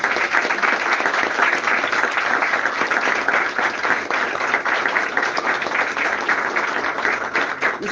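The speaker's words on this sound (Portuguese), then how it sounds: "As palmas." Applause from an audience at a church service, dense and sustained, with many hands clapping together at an even level throughout and no voices above it.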